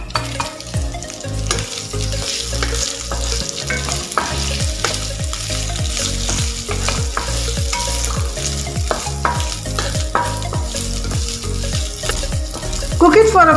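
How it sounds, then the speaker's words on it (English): Loud, continuous sizzling and frying of potatoes in a pan with green chilies and curry leaves, with repeated scraping and stirring strokes throughout. "let it sizzle"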